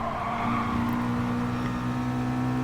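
Race car engines drone steadily at Big Willow in GT Sport, a continuous loud engine tone with no pauses or talking.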